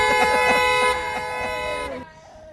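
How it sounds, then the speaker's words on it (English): A line of cars sounds a blaring chorus of overlapping horn blasts, loud and continuous for about two seconds before cutting off into a fainter tail. "it's just a line of people honking their horns"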